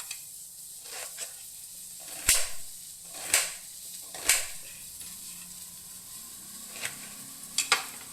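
Onion, garlic and curry leaves frying in oil, a low hiss broken by several sharp crackles and pops spaced a second or so apart, with no voices.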